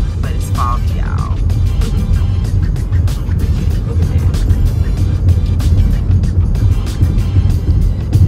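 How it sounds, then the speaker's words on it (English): A car passes on a fog-covered road, a steady rolling tyre and engine rumble that swells slightly, with someone talking over it. "Every so often a car come through"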